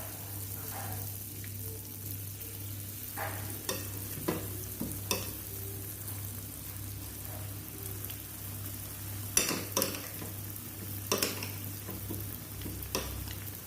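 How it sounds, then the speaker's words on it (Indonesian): Steady sizzling of tempeh frying in hot oil over medium heat, a constant crackling hiss with occasional clinks and stirring scrapes nearby. "Minyaknya sudah panas ya, kita goreng."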